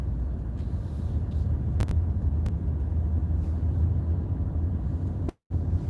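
A car drives up a rural road in Roanoke County, Virginia, a steady low engine and road rumble with some wind buffeting the microphone, continuous and close until a brief dropout near the end.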